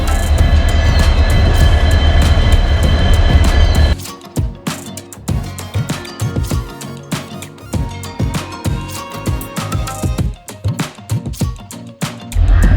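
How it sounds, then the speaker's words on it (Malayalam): A train pulls into a station on the line to Mangalore Junction, loud rumbling at first, then giving way to rhythmic clacking of wheels over rail joints close by. "നമ്മുടെ ട്രെയിൻ വരുന്നുണ്ട്. മംഗലാപുരം ജംഗ്ഷനിലേക്കുള്ള ട്രെയിനാണ് വരുന്നത്."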